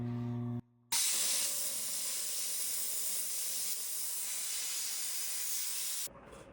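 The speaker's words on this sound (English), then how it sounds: "We're going to steam the ring now." A loud, continuous steam hiss from a steam cleaner on a stainless steel ring blasts steadily for about five seconds, cutting in abruptly after a brief mechanical hum and stopping just as suddenly.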